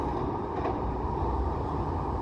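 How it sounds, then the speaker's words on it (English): A fast train passes close by at Cockle Creek, a loud, steady rumbling roar of wheels on rails that holds for the whole stretch, with no talking. "A faster train, just like that."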